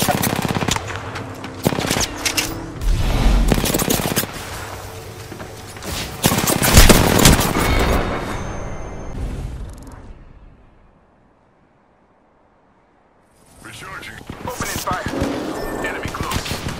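Bursts of automatic gunfire and heavy shots in a match of Apex Legends, loud and close, rattling in clusters with explosive thumps, fading to near silence midway before another rapid volley returns; a character voice speaks between the shots.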